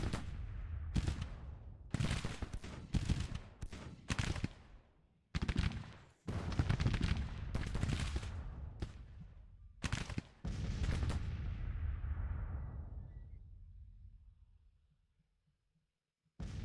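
Musket gunfire and artillery in Grand Tactician: The Civil War, at the 1864 Second Battle of Atlanta, crackle in loud, ragged volleys separated by brief pauses, then give way to a long rumbling roll that fades into near silence.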